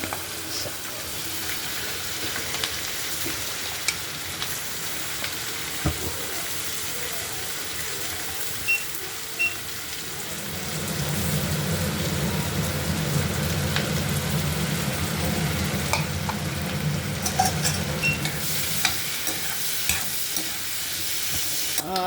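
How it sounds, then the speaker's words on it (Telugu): Onions frying in butter with whole garam masala in a pan for hotel-style coconut pulao, a steady close sizzle that grows louder and fuller partway through, with occasional stirring clinks and no talk. "బటర్లో హోల్ గరం మసాలా వేసి వేయించుకున్న తర్వాత కొంచెం కొంచెం అన్నీ యాడ్ చేయాలండి. ఆనియన్స్ వేసుకోవాలి."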